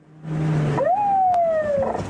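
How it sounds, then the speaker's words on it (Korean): A police patrol car's siren wails during a chase after a drink-driving suspect, a loud electronic tone sweeping up and then sliding slowly down over road and engine noise, close by. "마침 대기하던 순찰차가 사이렌을 울리며 차량을 뒤쫓기 시작합니다."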